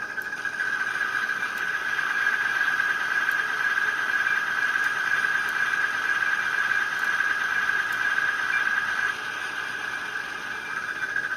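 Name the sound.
model crane chain pulley sound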